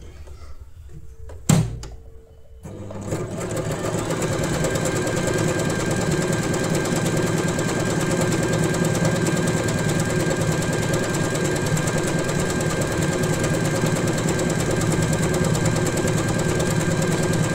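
Usha Janome Wonder Stitch sewing machine running at a slow, steady pace, a continuous mechanical whir after a brief thump and pause at the start.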